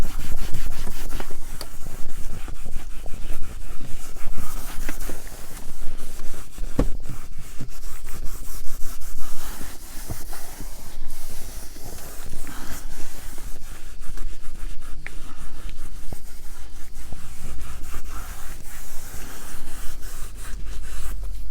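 Steady, continuous rubbing and scrubbing of a microfiber cloth with a little dish soap against a white Tesla Model 3 fabric seat, close and fairly loud, with no talking.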